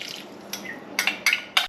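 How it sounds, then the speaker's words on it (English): Bone broth poured into a pot of chili, a few short liquid splashes and glugs up close, growing louder in quick bursts toward the end. "here is my chili that I want to add about a cup of bone broth to"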